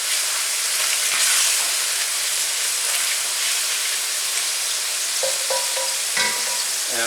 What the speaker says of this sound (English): stir while the vermouth bubbles and while you scrape up all those bits